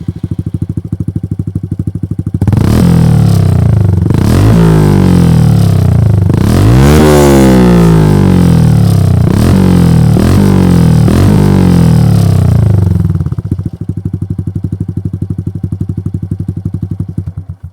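Honda Super Cub 125 fitted with an aftermarket exhaust and a much thicker header pipe, idling and then revved hard in several loud, close bursts for about ten seconds before settling back to a steady idle.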